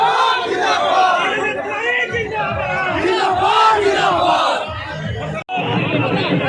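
A dense crowd in Asansol shouts slogans in unison to welcome Jitendra Tiwari, a loud, continuous roar of many voices rising and falling together, cut by a brief gap near the end.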